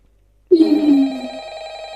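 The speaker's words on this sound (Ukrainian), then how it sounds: "Опана, хтось телефонує." A telephone rings out suddenly after a moment of silence, a steady, close electronic tone that keeps sounding, in the game Minecraft.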